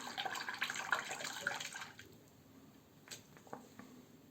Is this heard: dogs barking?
no